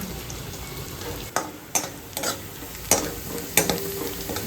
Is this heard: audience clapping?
no